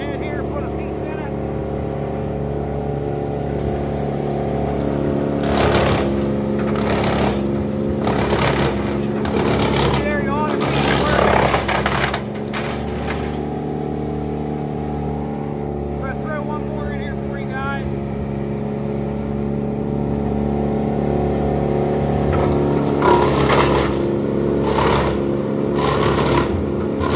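A 2018 Bandit 15XP 15-inch self-feed wood chipper with a rear winch runs with a steady engine drone, while wood fed into it produces repeated loud, rough chipping bursts, and voices can be heard nearby.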